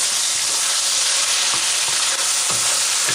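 Onions saute in a hot pan with panch phoron spices, a continuous loud sizzle broken by occasional scraping knocks of stirring.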